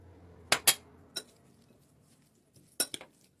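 Utensils clinking against a bowl while carrot-leaf salad is mixed with chopped rabbit meat, a few sharp metallic clacks in two short bursts separated by a quiet pause.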